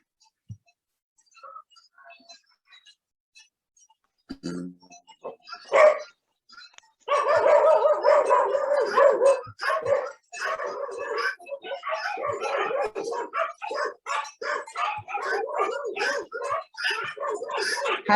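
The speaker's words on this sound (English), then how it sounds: "How do you mute the dogs?" Several dogs bark and yip on a resettled farm in the Shashe block, Zimbabwe, starting sparse and then barking continuously and loudly, with voices talking over them.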